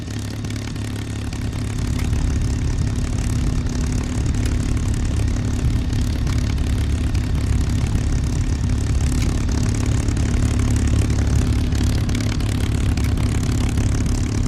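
Steady drone of an aircraft engine idling before taxiing in a flight video game, a continuous low propeller hum that swells slightly after a couple of seconds and then holds evenly.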